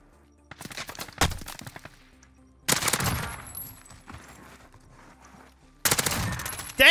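An AS VAL rifle firing in a video game, three separate rapid bursts of automatic fire, sharp and close, with quiet gaps between them and no talking.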